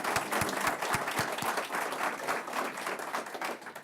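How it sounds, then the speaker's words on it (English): A press conference audience applauds, dense steady clapping from a crowd carrying on throughout, moderately loud and without speech. "So let's give them a big round of applause."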